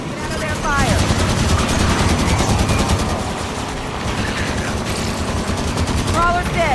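Sustained rapid automatic gunfire crackles through a firefight in the Halo video game, with dense repeated shots over a constant background roar and a couple of brief electronic chirps.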